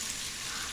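Onions sizzle and fry in a pan while being stirred, a brief, steady hiss of cooking with no voices.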